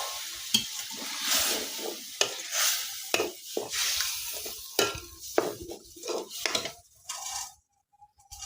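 Taro flower curry being stirred and fried in a pan after rice starch water is added, with repeated scraping spoon strokes and a steady sizzle, close and fairly loud, no talking.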